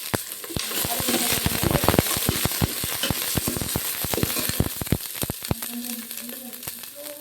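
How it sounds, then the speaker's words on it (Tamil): Onion and garlic sautéing in a pan for a chicken curry, a dense, continuous close sizzle with crackling pops throughout and some stirring. "இந்த கலருக்கு கீழே வெங்காயம் பூண்டு சேர்த்து வதக்கிறேன்"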